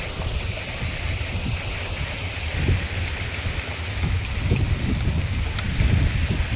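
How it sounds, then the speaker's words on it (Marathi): Heavy rain pours over a farm field beside a tractor and trolley, a steady, loud wash of broadband hiss with soft low thumps throughout and no voices. "पाऊस लय जोरात द्यायला लागला."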